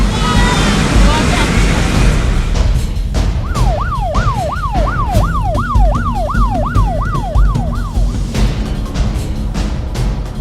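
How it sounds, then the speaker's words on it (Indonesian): Wailing alarm at a fire station, a sweeping up-and-down siren tone cycling steadily for several seconds over loud, constant background rumble and engine noise. "di aplikasi Satkartaru berbunyi alarm telah terjadi kebakaran"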